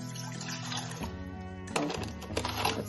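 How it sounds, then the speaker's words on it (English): Water is poured into a bowl to start focaccia bread dough, a short splashing and trickling pour that shifts in tone as it fills, close and fairly loud, with no talking. "We're gonna put some water in."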